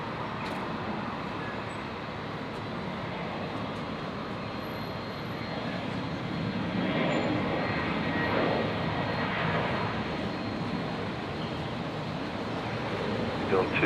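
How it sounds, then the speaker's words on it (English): Qantas 611 airliner departing runway 19 left at Brisbane International Airport, a steady distant jet roar that swells slightly toward the end, heard alone without talk. "So we'll just jump across to the departing Qantas 611. 19 left, heading out to Melbourne."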